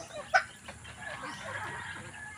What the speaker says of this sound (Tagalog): Nag-iisa lang ang aming tandang dito.